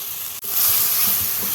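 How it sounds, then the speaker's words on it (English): Chopped onions hit a hot kadai with a sudden loud sizzle that swells right after a brief quiet moment, then holds as a close, steady hiss of sautéing with faint stirring underneath. "Next, I'm adding 2 chopped onions to the kadai."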